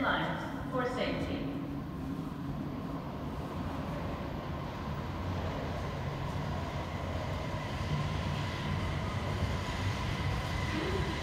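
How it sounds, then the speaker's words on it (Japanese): A Kobe Municipal Subway 5000 series train pulls into Harborland station, a low steady rumble of wheels and motors building under a platform announcement and chime. "The train bound for 新長田 will soon arrive at track number 2."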